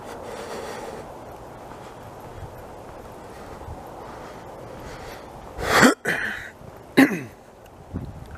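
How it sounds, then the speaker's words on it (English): A man clears his throat twice in close, sharp bursts, one longer and one short, over a quiet background hiss. "Something I have to do every now and then is clear my throat"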